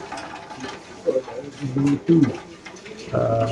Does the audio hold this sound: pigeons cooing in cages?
yes